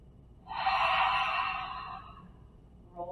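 A slow breath from a restorative exercise class, one long exhalation swelling and fading close by in a quiet room, followed by a faint short intake at the end.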